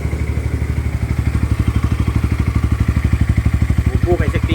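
A 240cc NS200 motorcycle engine idles nearby with a fast, even, thumping pulse and mechanical clatter, steady and close throughout, with voices briefly audible near the end.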